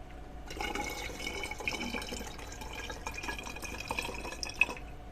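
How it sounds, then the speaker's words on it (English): Purified water trickles and splashes steadily as it is poured slowly into a narrow graduated cylinder, a continuous close pouring sound lasting several seconds. "we're going to fill up from here to here with purified water"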